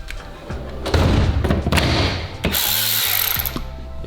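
Wrench work loosening drive shaft bolts on a 1973 Camaro: metallic clicks, knocks and ratcheting thumps in an irregular close sequence, with no talking.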